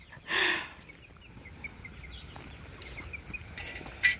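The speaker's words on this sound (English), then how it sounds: "I let all the meat birds out too." Meat chickens let out of their pen on a rainy morning give a few soft clucks and faint calls, with one louder squawk at the start, over quiet background noise.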